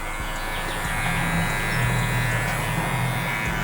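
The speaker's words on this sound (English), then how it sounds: "Come back with the trimmer." Electric hair trimmer from a cheap barber kit, running with a steady, continuous low buzz and a fine high hum, close and unbroken throughout, with no talking.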